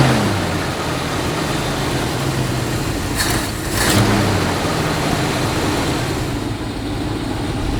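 A 1969 Ford Ranchero engine idles with its timing slightly off, a close, steady low drone with a brief swell in the middle, and no voices over it.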